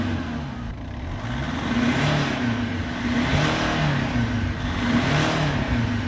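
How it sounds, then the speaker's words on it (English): A W211 Mercedes E-Class engine revs up in a few rising and falling surges over a steady running hum, loud and close, with no voices. "And let's just give it a bit of rev."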